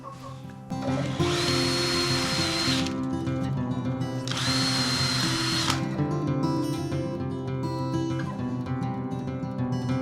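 A power drill bores holes in wood while building a chicken coop, two sustained whining bursts of about two seconds each over a steady background hum, close and loud, no talking.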